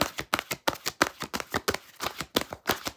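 Tarot cards being shuffled in quick riffling bursts, a steady run of crisp papery flutters close up with short pauses between them, no voices.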